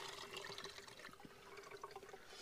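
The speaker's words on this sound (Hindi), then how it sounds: "ऐसे निकालते हैं पानी इससे" Water drawn out of a rural farmyard water source gushes and splashes in a steady, continuous flow, moderately close, with no talking.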